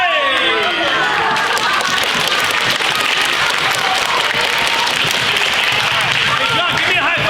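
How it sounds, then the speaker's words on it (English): An audience at a school chemistry expo event applauds, a dense, loud, continuous clapping from a large crowd filling the room without pause. "big round of applause"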